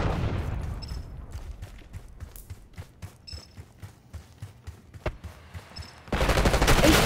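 Gunfire and explosions in Call of Duty Black Ops 6: a string of rapid, evenly spaced shots, then a sharp crack and a sudden loud burst of noise near the end, with faint game tones in the background.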